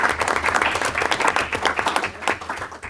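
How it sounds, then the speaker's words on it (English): An audience gives a hearty round of applause for National Honor Society executive board members at a high school district board meeting, dense steady clapping holding for the whole stretch. "Another round of applause"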